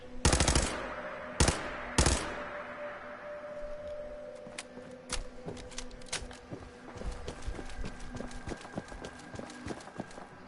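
Gunfire in Fallout 4 opens with several loud close shots, then settles into rapid, scattered bursts of quieter, more distant shooting continuing to the end.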